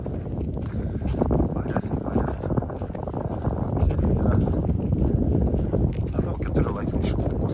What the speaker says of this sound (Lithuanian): Yra vėjukas.